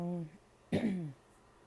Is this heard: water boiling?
no